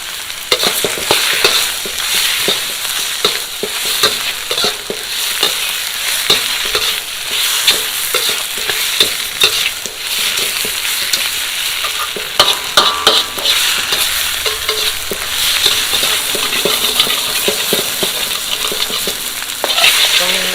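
Spicy catfish stir-fries in a pan, with loud, bright crackling sizzle and frequent sharp scraping stirs in an uneven rhythm, close up and with no voices.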